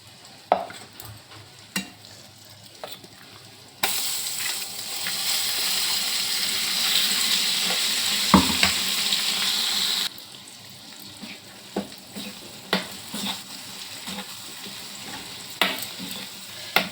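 Tomato pachadi tempering of asafoetida and turmeric in hot oil, with ground tomato paste poured in: a loud, steady sizzle bursts up midway and lasts several seconds, framed by quieter stirring clinks and scrapes in the pan.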